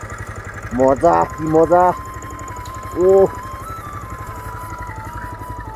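A motorcycle engine idles in the snowy cold of Tawang, Arunachal Pradesh, as hands are held against it for warmth; a steady low rumble runs throughout beneath bursts of nearby talking voices.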